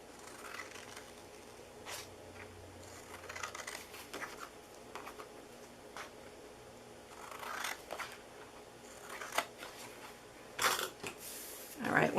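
Scissors snipping into scored card for a gift box, scattered short close cuts and paper rustles at irregular intervals, with a few sharper snips near the end.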